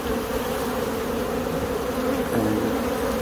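A dense swarm of bees hums steadily through trees during a tree bee removal, a loud, continuous close buzz with no voices.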